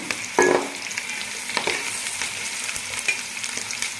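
Ginger-garlic paste fries in a pan for chicken dum biryani, a close steady sizzle broken by a few stirring scrapes, with no voices.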